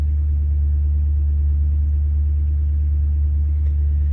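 A car engine idles while warming up in cold weather, a loud, steady low rumble with an even mechanical throb, close and unbroken throughout.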